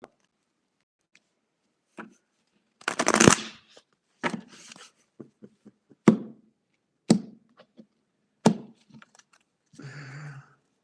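Tarot cards being shuffled in short bursts, one long riffle then several quick snaps and taps, close and alone with no talking.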